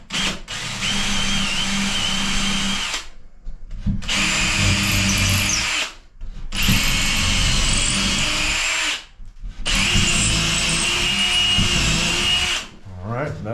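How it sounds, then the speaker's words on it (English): A power drill whirs loudly in four bursts of a few seconds each, separated by brief silences, close up. "We're gonna do this for a pilot hole"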